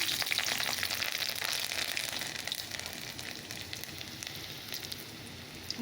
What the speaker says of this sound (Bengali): কড়াই তেল দিয়ে দিয়েছি কি তেলটা গরম হয়ে গেছে তো চলো ফোড়নে একটু কালো জিরে আর একটু কাঁচা লঙ্কা দিয়ে দিলাম